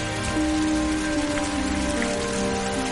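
Rain falls steadily onto a surface, an even, close hiss of patter with no pauses and no voices.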